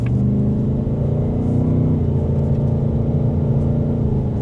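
A Ford Mustang GT V8 with a 10-speed automatic accelerating on the road, heard as a steady, loud low engine rumble from inside the car with no talk.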